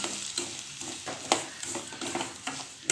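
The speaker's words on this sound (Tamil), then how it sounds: "தண்ணி கொதிக்கிற வரைக்கும் ரவாவை வறுத்துக்கணும்" Dry semolina (rava) scraped and stirred in a pan while dry-roasting, rhythmic scratchy strokes repeating every half second or so over a faint sizzle, close up.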